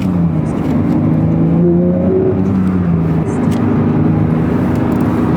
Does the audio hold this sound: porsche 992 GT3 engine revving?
yes